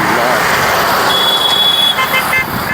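Dense, loud road traffic near Lakhanpur with engines rumbling and a sustained horn blast partway through, a voice talking over the din.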